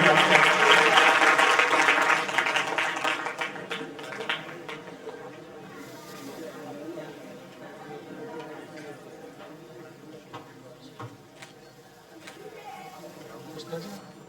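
Audience applause at a community student-honour ceremony in a hostel hall, dense clapping at first that thins and fades after a few seconds into scattered claps and murmuring voices.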